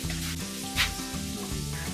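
Small fish fry in hot oil in a wok, giving a continuous close sizzle with a louder crackling burst midway, alongside a steady low hum, and no talk.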